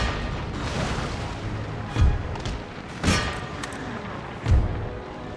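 Ship cannons boom in a naval battle with galleys in the strategy game Empire: Total War, three heavy thuds spaced about a second apart over a continuous rumbling background of battle noise.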